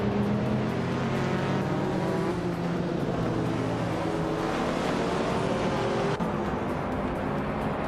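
A 1982 Lancia 037 Stradale in a racing video game holds a steady, loud engine drone at speed on the High-Speed Ring Reverse track, mixed with other cars racing around it and no voices.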